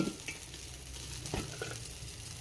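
Oil sizzles steadily in a pan while sorrel-leaf paneer curry cooks, with a few light stirring knocks over a constant close crackle and no talking.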